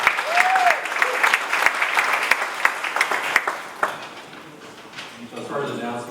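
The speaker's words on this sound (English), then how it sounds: "Let's give a round of applause." A room of Rotary Club members applauds at a meeting with steady clapping that fades out, followed by quieter voices and room noise.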